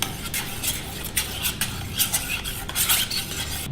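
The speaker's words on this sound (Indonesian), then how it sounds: "Aduk." Milk mixed with cornstarch is stirred for a cheese filling, producing quick repeated scraping swishes of a utensil against a pan in an uneven rhythm, close and moderately loud.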